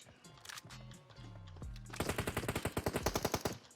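Automatic gunfire in PUBG Mobile cuts in as a rapid, evenly spaced burst of sharp shots, loud and close, with a few scattered shots and game sounds before it.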